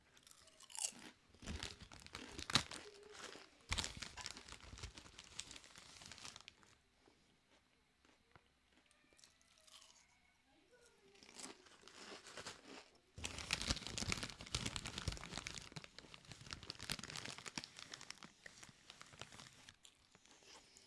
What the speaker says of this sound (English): I'm out here not listening to that crunching.